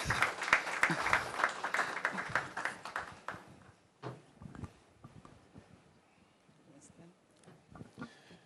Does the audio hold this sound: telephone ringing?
no